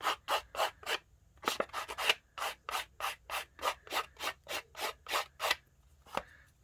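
An emery board rasped back and forth along the edge of a paper craft tag, producing about twenty rhythmic, close scratchy strokes in quick succession with a brief pause partway through.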